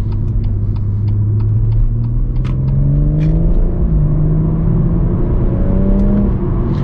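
Cabin sound of a BMW M140i cruising just under 60 mph at low revs, with a loud steady low engine and road rumble, gentle pitch shifts, and faint ticking clicks early on.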